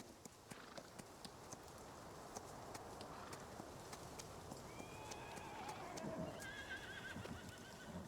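Horses in Farming Simulator 19 whinny and snort over steady clip-clopping hooves, fairly quiet, with a brighter neigh near the end.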